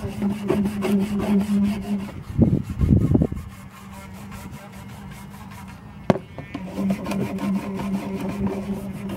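A rust-soaked hand tool rubbed by hand, giving a short burst of scraping friction near the start over a steady background hum, with a sharp click partway through.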